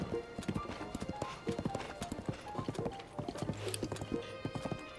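Horse hooves clip-clopping in Zelda Tears of the Kingdom, a quick steady galloping rhythm up close, with a brief whinny partway through and no talk over it.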